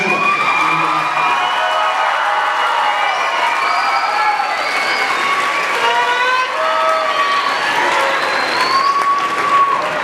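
A large crowd at a mid-year high school graduation ceremony applauds the graduates, loud continuous clapping mixed with cheers, whoops and shouted calls that rise and fall across the whole stretch.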